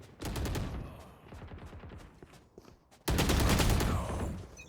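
Rapid bursts of gunfire in a first-person shooter video game match, a dense volley of shots, then a sudden louder sustained barrage near the end.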